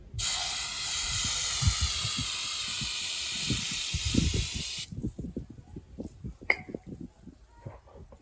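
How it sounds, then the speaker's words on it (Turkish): A steady, loud brake cleaner spray hisses onto a car brake disc for several seconds and then stops, followed by scattered clicks and handling noises of metal parts. "Bir balata spreyi yardımıyla bunları temizliyorum."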